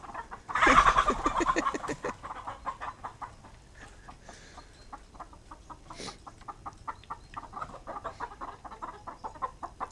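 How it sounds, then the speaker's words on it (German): Chickens clucking near a farm coop while competing over feed, a loud burst of overlapping clucks at first, then steady rhythmic clucking and pecking sounds continuing throughout. "Die Hühner werden sich auch denken, was seid ihr für welche? Jetzt macht ihr uns das Futter streitig."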